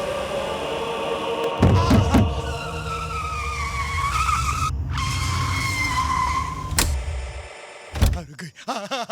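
A car skids loudly with tire squeal and engine roar, a few sharp thuds near the start and a hard impact thump near the end, ending with brief voices.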